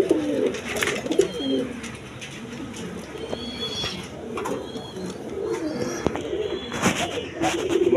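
Pigeons of the Rasgulla breed coo in soft, repeated throaty phrases close by, with occasional wing flutters and bird calls layered over a steady background.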